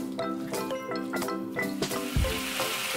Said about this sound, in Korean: 지글지글 소리가 나면 한 번씩 계속 볶아주세요.